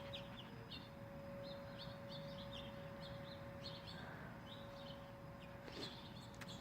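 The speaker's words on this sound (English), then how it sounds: "Look at all of them birds. That one sounds beautiful." Several birds chirp and sing outdoors in short, repeated calls, moderately distant, over a steady low background hum with no talking.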